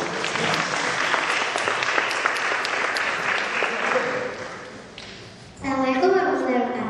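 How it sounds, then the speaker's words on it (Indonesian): A group at an official reception claps for a schoolgirl representative, with dense applause that tapers off before a voice starts speaking near the end. "Iya, kita tepuk tangan dulu buat Suci."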